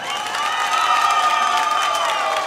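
A live audience at a Paraguayan polka concert applauds and cheers, a sustained wash of clapping with shouts and whoops rising over it.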